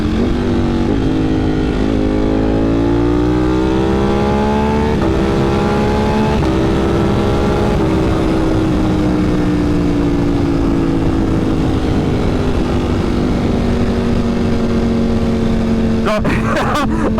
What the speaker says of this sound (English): Y'all hear that as it pops when it upshifts?